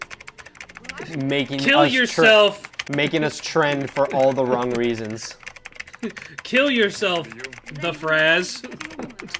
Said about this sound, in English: That's the sound of 10 billion keyboards angrily clicking right now